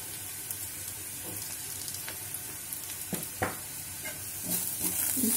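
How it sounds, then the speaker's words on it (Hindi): Soya chunks with black pepper powder, cumin powder and coriander fry in a pan for soya chilli, making a steady close sizzle with occasional scrapes and taps of a stirring spoon that swells slightly toward the end. "इसको थोड़ा भूनेंगे"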